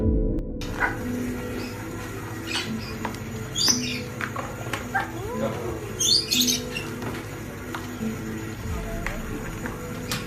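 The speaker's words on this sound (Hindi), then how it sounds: "ये एक ऐसी वीडियो है जिसमें तोते बास्केटबॉल खेलते नजर आते हैं।" Parrots trained to play basketball give scattered short chirps and squawks, some sharp and close, over a steady low background hum.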